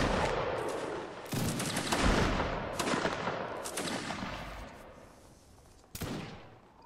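Musket volleys in a Napoleonic Wars battle game, heard as several loud, close crackling salvos that swell and fade over a few seconds, with one final sharp burst near the end and no voices.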